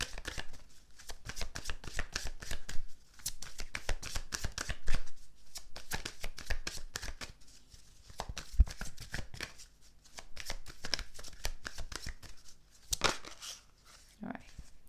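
A deck of tarot-style cards is shuffled repeatedly for a card reading, producing a dense run of riffling, flicking card noise with short pauses between bursts, close and fairly quiet, with a voice talking intermittently over it.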